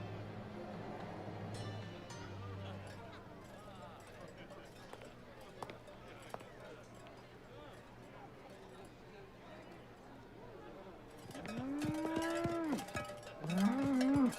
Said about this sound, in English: That cow. Moo.